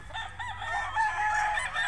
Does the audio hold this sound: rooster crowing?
yes